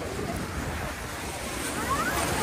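The roar of Niagara Falls seen from a cruise boat below, a dense constant rush of falling water mixed with wind buffeting the microphone, loud and unbroken throughout.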